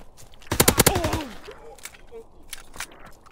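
Automatic gunfire from a Call of Duty WW2 multiplayer match, a loud rapid burst of shots up front followed by a few scattered distant shots and game effects.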